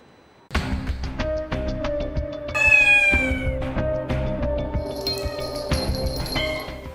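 A pet cat meows repeatedly, close and fairly loud, with drawn-out, wavering cries and some faint clinking in the background.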